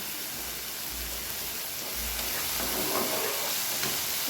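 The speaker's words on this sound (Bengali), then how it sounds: "জিরে গুঁড়ো দিয়ে দেবো ভালো করে এটাকে আমি কষিয়ে নেব" Cumin powder, turmeric and salt being sautéed in hot oil for a jackfruit curry, giving a steady close sizzle and hiss with faint stirring throughout, no voices.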